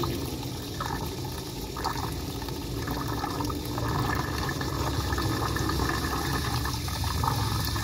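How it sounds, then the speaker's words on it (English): The water pump of a Grand Design Momentum 21G RV runs while priming, a continuous rushing, watery whir with faint periodic pulses, steady and moderately close, with no talking. "we'll go prime the water pump"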